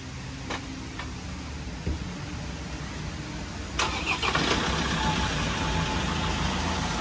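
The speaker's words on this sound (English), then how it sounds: "Is the car going to start?" A Land Rover Defender's engine cranks and catches after being push-started, then settles into a steady, close idle, with a few ticks before it fires and no talk.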